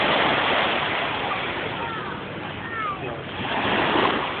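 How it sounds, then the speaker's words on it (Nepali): Ocean waves at Deep Water Bay Beach in Hong Kong make a steady, broad wash of surf with wind, loud and close, while voices are faintly heard over it. "छालै देखाउनु पर्ने"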